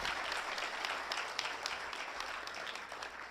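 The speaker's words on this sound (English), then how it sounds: "our President Benigno S. Aquino III, our round of applause, please." Applause from an audience at a regional economic managers briefing, a steady wash of many hands clapping, moderately close and sustained throughout without speech.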